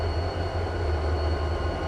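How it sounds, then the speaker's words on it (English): A Canadian Pacific diesel locomotive horn in a Roblox train game holds a steady, loud, unbroken blast for the whole moment, with a deep droning tone underneath. "we're sounding the locomotives as fast as possible"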